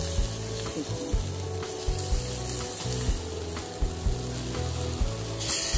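Large pieces of marinated barbecue meat sizzle steadily on the grill at a party, a continuous crackling hiss under a low tonal hum with occasional louder pops.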